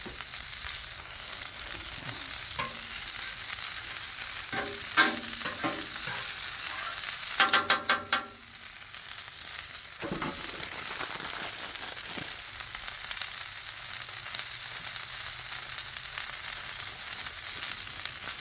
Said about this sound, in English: Publix already pre-made stir fry the best. It's already washed and everything, so get some oil on it.